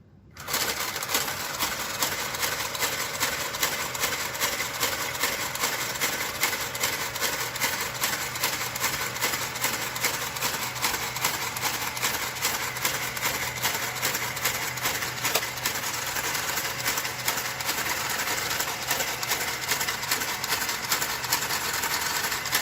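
A knitting machine carriage sweeps across the needle bed while working a jacquard blanket, a steady mechanical whirring and clicking that runs continuously at close range for the whole stretch, with no voice over it.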